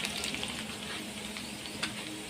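Onions and arvi (taro root) sizzle and fry steadily in a pan of hot oil for a masala arvi dish, a continuous close crackle with small stirring clicks and no voices.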